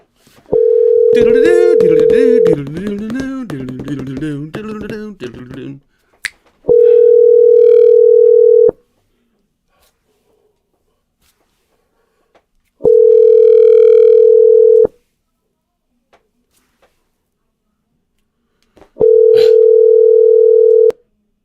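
Telephone ringback tone while calling someone, long steady tones repeating at regular intervals with silence between, the first partly under someone talking.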